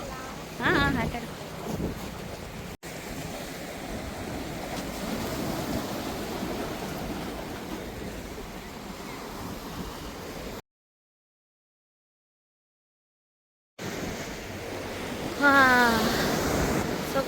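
Sea waves at a sunny beach wash in a constant roar mixed with wind buffeting the microphone, broken by a few seconds of dead silence, with voices of people talking nearby.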